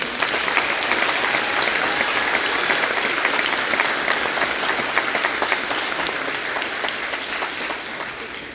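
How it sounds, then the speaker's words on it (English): Audience at a high school winter concert applauds steadily, a dense, sustained clapping that fills the room and tapers off slightly toward the end. "So if Gabby and Josh, can we give them a round of applause?"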